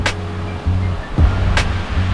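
Sea waves surge and wash steadily nearby along a coastal road on the Infanta loop, a broad continuous roar with a couple of louder swells.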